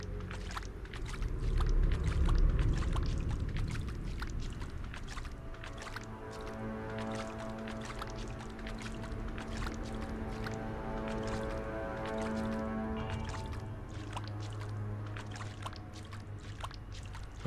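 A character wades and splashes through water in a sci-fi video game, giving a soft, continuous sloshing under looping electronic game music and ambient tones.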